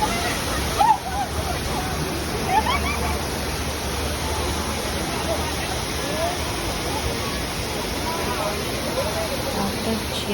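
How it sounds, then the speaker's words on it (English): Chipara waterfall near Kochi, Kerala pours as a steady broadband rush of falling water, moderately loud and constant, with a brief faint voice and a few distant sounds mixed in. "we visited Chipara waterfall."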